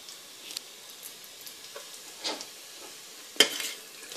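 Cut ginger browns gently in butter in a pan for an Indian rice and moong dal dish, a faint soft sizzle with occasional stirring scrapes and one sharper clink of a utensil on the pan, quiet and close.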